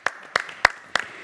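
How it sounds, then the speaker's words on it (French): Four sharp, close handclaps at an even rhythm, as applause starts for a guest entrepreneur on a French talk show, each clap distinct with brief silence between. "on peut applaudir Isadora."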